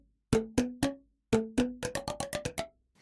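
Hollow plastic boomwhacker tubes struck to play a tune: three even, resonant knocks, a short pause, then a quicker run of about eight bright pitched taps. The notes are clear and close, with no voices.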